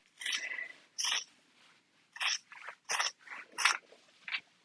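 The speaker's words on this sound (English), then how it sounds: "So now we're going to trim that seam allowance." Scissors trim the fabric seam allowance on a bag lining, giving a series of crisp snipping cuts in short bursts with brief pauses between them, close and fairly quiet.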